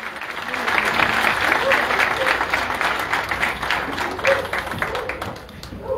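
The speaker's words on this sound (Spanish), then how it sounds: "Fuerte el aplauso" A crowd claps loudly and continuously at a lottery ticket unveiling ceremony in Hidalgo, Mexico, the applause sustained throughout with a few voices faintly mixed underneath.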